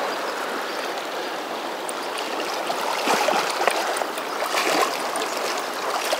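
Fast, ripping water rushing through a large side channel of the South Fork Snake River, a steady broadband roar close by with no voices.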